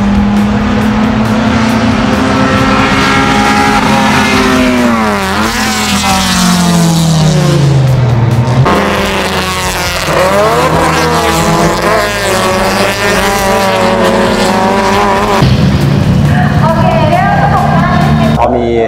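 Honda City Hatchback race cars in a one-make race with manual gearboxes, a field of 29 cars, roar around the track as loud, sustained engine noise rises and falls in pitch as cars pass close by.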